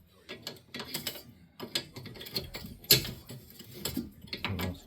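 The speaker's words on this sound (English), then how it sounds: "so we're just going to have to wrench it by hand" Rapid ratcheting clicks from a hand wrench turning a bolt on the rear wheel hub of a Chevrolet Lumina during a wheel bearing job, close and bursty with short pauses between strokes.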